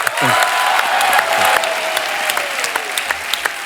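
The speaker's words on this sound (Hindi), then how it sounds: "पहले तो जोरदार तालियां" A studio audience at a comedy show bursts into loud, dense applause that holds for about a second and a half, then falls to scattered claps with a host's voice over it.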